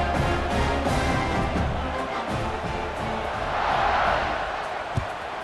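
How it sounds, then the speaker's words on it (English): Dense football stadium crowd roaring steadily before a kickoff at Maryland versus Oregon, a loud sustained wash of cheering voices with a brief swell near the end and a single sharp thump. "this crowd is feeling themselves after that last drive"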